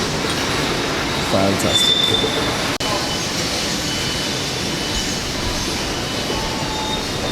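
A train moves along a station platform with squealing wheels and rumbling rail noise, and a person speaks briefly over it.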